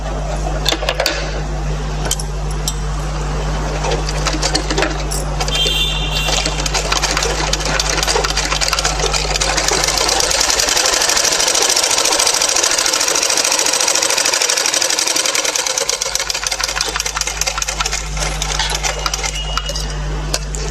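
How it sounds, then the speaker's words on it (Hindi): A sewing machine runs continuously, stitching two fabric pieces together at a tailoring lesson, a loud close mechanical whir with a rapid needle clatter that barely eases midway. "ये देखो दोनों तरफ हमने सिलाई डाल दी है।"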